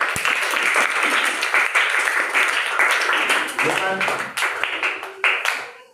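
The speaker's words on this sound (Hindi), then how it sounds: "एक बार जोरदार ताली बजाओ" Schoolchildren in a classroom clap loudly for several seconds, a dense patter with sharp individual claps standing out, fading into scattered claps and a brief voice near the end.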